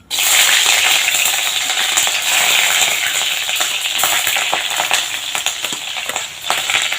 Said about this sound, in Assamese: আমাৰ কেৰাহীখন পূৰা গৰম হৈ গ'ল মই ইয়াতে দিম এতিয়া পিঁয়াজখিনি